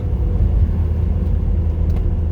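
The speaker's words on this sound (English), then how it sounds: "So I'm just letting the car roll" A Saab 9-3 with freshly fitted R1 Concepts front rotors and pads coasts along the road without braking, giving a continuous deep rumble of tires and drivetrain close by.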